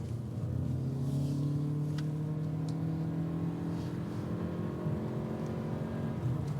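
A 2025 Lexus UX 300h AWD hybrid accelerates from inside the cabin, a steady, moderately loud engine drone with a rising whir that holds evenly throughout without talk.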